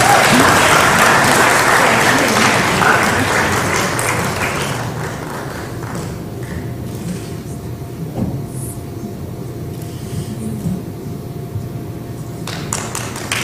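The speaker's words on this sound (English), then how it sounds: "Doing a hand clap." A crowd applauds loudly, and the clapping slowly fades to a lighter patter under a steady rumbling background.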